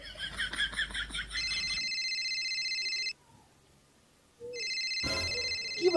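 A telephone rings with a repeating electronic ringtone in two bursts separated by a short silence, loud and close, with brief noise between the rings and no talk.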